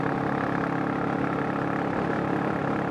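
A Royal Enfield J series motorcycle with a 410 big bore engine upgrade pulls steadily in fifth gear at around 50, a loud, continuous engine drone heard up close with no breaks.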